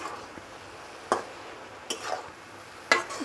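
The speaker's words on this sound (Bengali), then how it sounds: "আমি একটু নেড়ে দিচ্ছি" A radish and dry fish curry gets stirred in a pan: a few spaced, soft scrapes and clinks of a spoon over a faint simmer, close and fairly quiet, with no talking.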